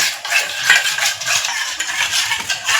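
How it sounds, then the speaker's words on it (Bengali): A spoon scrapes and stirs a paste-like stuffing with salt and turmeric in a bowl, giving a close, steady clatter of cutlery against the dish with no talking. "এখন আমি খুব ভালো করে মিশিয়ে নেব"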